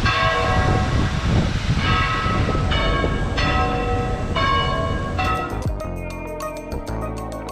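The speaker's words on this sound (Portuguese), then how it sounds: "Começou a tocar os sinos ali naquela igreja." Church bells of a church in Salvador, Bahia, Brazil ring loudly and steadily, overlapping strokes building into a dense, clanging peal toward the end.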